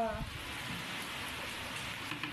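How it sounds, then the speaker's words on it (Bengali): Storm rain pours steadily as a dense, even hiss, heavy and continuous throughout, with no talk over it. "তারপরেই তাকিয়ে দেখছি বৃষ্টি, আর কি ঠান্ডা হাওয়া।"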